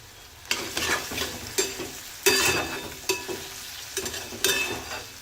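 Onion and tomato sautéed with turmeric in a pan, a close, steady sizzle broken by about eight sharp stirring scrapes at a fairly even rhythm, with no talking.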